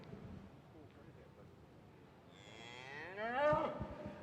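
A red heifer at a junior beef cattle show moos once, a drawn-out, rising and falling call that swells loudly toward the end over faint background noise.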